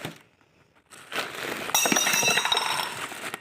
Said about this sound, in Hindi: गिर गया अलविरा का गिलास